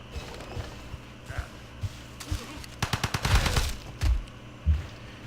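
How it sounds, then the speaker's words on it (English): Cannon bombardment in the strategy game Civilization V, a volley of sharp gunfire-like blasts and rumbling impacts clustered midway, with scattered thuds and clopping sounds before and a couple of heavy booms after. "Bombard their cannons."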